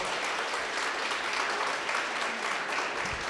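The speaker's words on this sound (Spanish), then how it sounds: "Un aplauso para el doctor Orlando," An audience at a conference talk on Indigenous community challenges in Mexico claps steadily for a doctor, a continuous even wash of hands with no talking.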